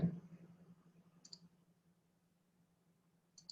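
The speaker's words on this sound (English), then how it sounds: "Try double clicking on it." A computer mouse is double-clicked during an online meeting, giving two quick faint paired clicks, repeated once more later, over near silence and a low hum.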